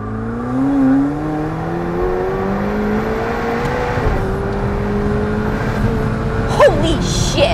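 A McLaren 720S supercar accelerating hard, its engine note climbing steadily in pitch over several seconds, heard loud and close from inside the cabin, with a brief sharp sound near the end.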